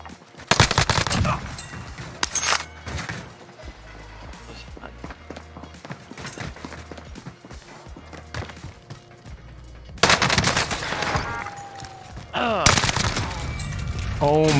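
NZ-41 rifle fire in Warzone on Rebirth Island: sharp, rapid bursts of shots cluster at the start and return in louder volleys near the end, with footsteps and game sounds between them.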